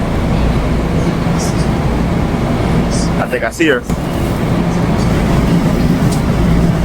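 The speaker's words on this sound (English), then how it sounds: "I'm on the train." Steady onboard rail rumble fills a moving train carriage, a constant loud drone with a brief spoken line near the middle.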